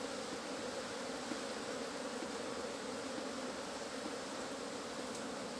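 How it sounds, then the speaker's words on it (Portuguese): Apis honeybees swarming in an opened hive nest, a dense, steady buzzing hum from many bees, even and continuous throughout, close and fairly quiet with no voices. "Olha a quantidade de abelha que tem dentro desse ninho."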